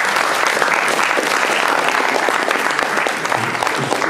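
Audience applause at a roundtable on orientation held by Ozon FC, a loud, dense, sustained clapping from a crowd that holds steady throughout with no talk over it.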